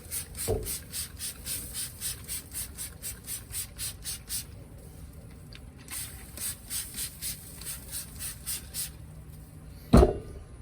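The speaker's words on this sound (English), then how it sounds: "Give it another coffee spray here." Rapid rhythmic hissing pumps from a hand spray bottle spraying coffee onto a brisket on a Weber kettle grill, two bursts of quick squirts close by, with a soft clunk near the end.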